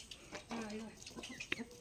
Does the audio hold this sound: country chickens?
yes